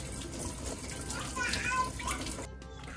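Tap water runs steadily into a sink while a sandfish fillet is rinsed, a continuous close splashing hiss that stops abruptly near the end, with faint background voices.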